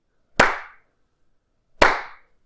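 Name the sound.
hand clap triggering an Arduino sound sensor switch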